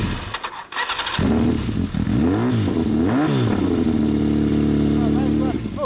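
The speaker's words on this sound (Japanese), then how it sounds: "エンジンかけてもらえる？" A 2007 Honda CB400 Super Bol d'Or Spec III (NC39) with a Yoshimura exhaust cranks and fires up, its engine revving in rising and falling sweeps before settling into a steady, close, loud idle, with voices talking over it.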